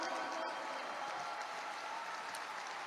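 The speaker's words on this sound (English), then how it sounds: "Can we give our Vietnamese brothers a round of applause today?" Audience applause from a crowd at a faith-themed motivational talk, a steady broadband patter of clapping held at an even level throughout, fairly distant and diffuse, with no voices on top.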